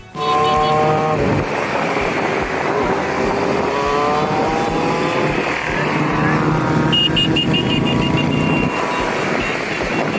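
Loud, continuous roar of bikers' motorcycle engines revving and passing close on city streets, with rising and falling engine tones throughout.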